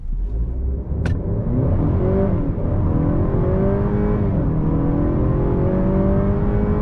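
A 2020 Honda Accord midsize sedan launches hard from a standstill after a sharp click, then roars steadily as it accelerates, rising in pitch through the gears.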